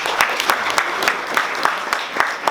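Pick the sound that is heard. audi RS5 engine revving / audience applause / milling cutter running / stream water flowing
audience applause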